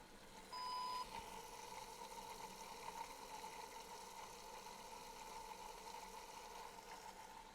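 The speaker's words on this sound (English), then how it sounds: "You hear air breaking up and moving through the system." Air breaking up and moving through a Cardiohelp ECMO circuit running at 5 liters a minute and 3,000 RPM, a steady low whooshing hum with a faint continuous tone throughout and a brief beep near the start.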